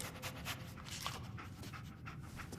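Dogmeat, the canine companion in Fallout 4, pants steadily and close by in a continuous rhythmic huff over low game ambience, with no talk.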